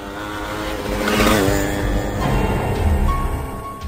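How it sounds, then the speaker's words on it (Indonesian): A motorcycle accelerates hard and speeds away, its engine note rising and revving steadily, loud and continuous with no talking. "Ia lajukan sepeda motor kencang-kencang."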